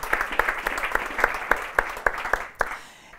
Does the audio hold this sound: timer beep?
no